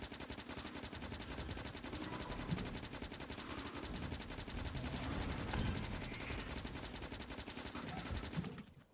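Turrets in the game Factorio firing in rapid, continuous machine-gun bursts during a strafing run, a steady rattling fusillade that holds at a fairly even level before cutting off abruptly near the end, with no talk over it.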